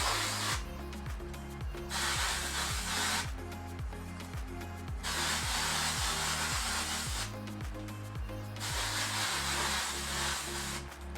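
A brush drags through hair coated with temporary color spray in repeated scratchy strokes of about a second each, close and fairly quiet, with a low rhythmic buzzing pattern running underneath.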